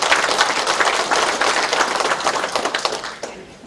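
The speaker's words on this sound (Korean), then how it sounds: "동의해 주시면 박수로 화답을 해주시면 감사합니다" Citizens at a town meeting with the Icheon mayor in Jungni-dong clap together in agreement, a dense burst of applause that gradually thins and fades over a few seconds.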